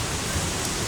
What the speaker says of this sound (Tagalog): Situation dito sa Green Hills, ang lakas ng ulan.